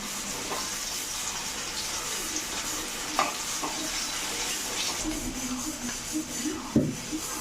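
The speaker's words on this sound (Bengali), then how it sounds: "ভাজা ভাজা করে নিই সেদ্ধ আলু" Boiled potatoes fry in a pan with a steady sizzle and occasional stirring clinks and scrapes, a close kitchen sound heard on its own without talk.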